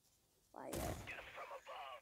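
A tank fires a shot in the mobile game Tank Stars, a rising whoosh followed by a loud, booming blast with a ringing, rumbling tail, up close and alone without talk.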